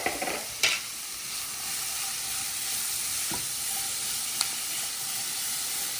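Sausage sizzles and fries steadily in a hot HexClad pan while a breakfast casserole is being made, a constant hiss with a couple of brief stirring clicks and scrapes near the start and middle.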